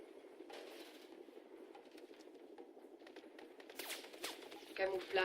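Gunfire in the video game Crysis: rapid bursts of automatic shots rattle fairly quietly in the background, with a voice talking over them.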